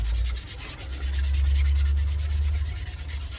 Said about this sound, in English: I'm wet sanding this